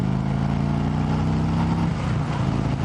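A 2018 Harley-Davidson motorcycle accelerates to overtake on the road, its engine a steady, close drone mixed with wind noise, with no talk.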